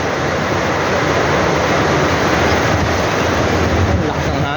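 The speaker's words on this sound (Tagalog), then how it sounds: "Ang lakas ng hangin, oh." A strong wind blows across a lake and buffets the microphone with a loud, steady roar, with the wash of water underneath.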